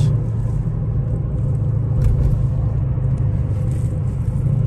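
A loud, close car exhaust with its valve open rumbles steadily at idle, a deep continuous drone with no voices.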